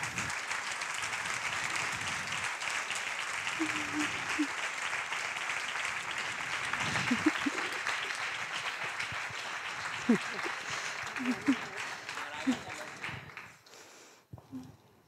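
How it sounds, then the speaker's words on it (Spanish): A crowd applauds steadily for about twelve seconds, dense clapping that fades out near the end, with a few voices calling out over it. "Así que un aplauso para Berta."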